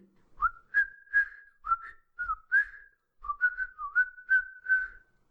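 Someone whistles a bright, bouncy melody alone, in short phrases with a brief pause in the middle.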